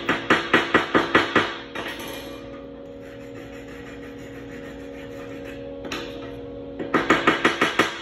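Chipping hammer striking slag off a 7018 weld on 1/4-inch mild steel, a quick run of six or seven sharp metallic taps, a quiet pause with a steady hum, then another rapid burst of taps.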